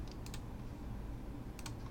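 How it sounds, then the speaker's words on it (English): Keys clatter on a computer keyboard: two quick bursts of light, clicky typing strokes, one near the start and one near the end, over a faint steady background hum. "let's run it by typing in the name Riemann Sum"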